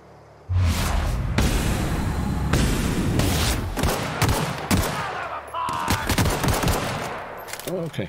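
Rapid automatic gunfire bursts loud and close in The Outer Worlds, repeated volleys with booms and thuds over several seconds, a voice briefly talking amid the shooting.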